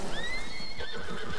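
A horse whinnies in the video game Red Dead Redemption II, a bright falling neigh over soft hoof clops, close and clear with no talking.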